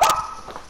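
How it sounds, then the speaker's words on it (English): A dog gives a single sharp bark close to the microphone, then the sound fades into a brief reverberant tail during a video game session. "whoever's dog just barked scared the shit out of me"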